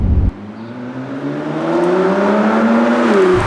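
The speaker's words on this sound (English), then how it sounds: "where a Ford would have more of a lower growl to it" Ford GT race car engine revving up with a rising, low growling tone, loud and close, building steadily for about three seconds.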